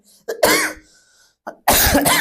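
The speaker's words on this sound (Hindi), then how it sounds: "सॉरी यार, खांसी कुछ ज्यादा ही आ रही है।" Two harsh, forceful coughs, each preceded by a short throat sound, close to the microphone with a pause between them.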